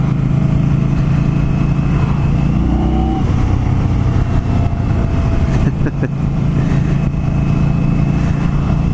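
A 2020 Indian Scout cruiser motorcycle on a ride, with a loud steady engine drone and wind noise up close, throttle shifting partway through, while a rider's voice talks over it.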